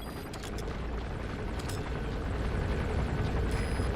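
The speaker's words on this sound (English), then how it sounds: "Looks like the arms dealer's chopper is gonna patrol for the security forces." In Metal Gear Solid V, an arms dealer's helicopter patrolling for security forces gives a steady, loud rotor roar with a dense, continuous churning wash that holds throughout, and no talk.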